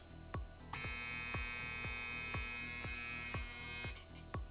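A Copal 227 flip alarm clock's buzzer rings loud and continuous for about three seconds, with a steady regular ticking pulse running underneath before and after the buzz.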